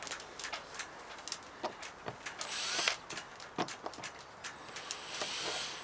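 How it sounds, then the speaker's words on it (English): A drill with a small bit bites intermittently into soft, rotten wood on a 60-year-old wooden yacht, giving short, sharp bursts of whirring with pauses between them, moderately close and fairly quiet. "I'll see if I can drill this out"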